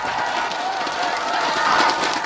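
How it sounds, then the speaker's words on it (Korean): Rally crowd in Daegu applauding at a presidential campaign event, a dense continuous wash of clapping and cheering that stays steady and loud throughout. "박수!"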